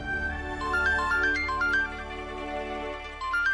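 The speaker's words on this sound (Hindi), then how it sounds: "पल्लवी का फोन" A melodic electronic phone ringtone plays a repeating pattern of bright notes, steady and moderately loud, with no voices.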